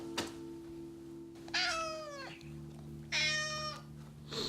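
A small cat gives two clear, drawn-out meows with a pause between them, fairly close, with a short click before the first and no talking.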